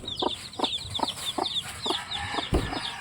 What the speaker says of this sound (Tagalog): ito naman yung bagong pisa na manok